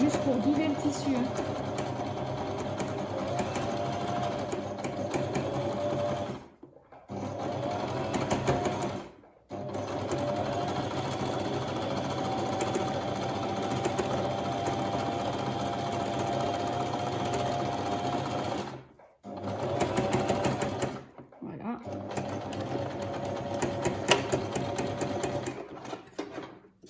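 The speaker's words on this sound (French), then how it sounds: "La partie machine à coudre est terminée." A sewing machine stitches fabric in a couture workshop, running in long steady bursts with several short pauses, close and fairly quiet, while someone talks over it.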